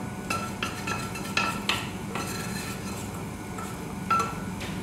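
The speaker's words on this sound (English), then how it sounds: "And give it a nice little whisk." A whisk stirs curry roux into boiling stock in a pot, making quick metallic clinks and scraping taps against the sides over a low bubbling bed, close and without talk.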